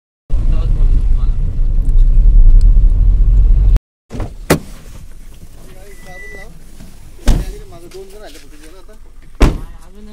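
A car arrives to pick up a group: a loud engine rumble runs, cuts off, then sharp thuds like doors shutting follow amid quieter ambience and voices.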